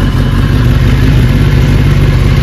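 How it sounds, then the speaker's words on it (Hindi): A Kawasaki ZX10R 1000 cc sport bike's engine runs loud and close in a short burst, a dense rumbling roar that holds steady without any clear rise in revs. "रेव तो करो हल्का सा"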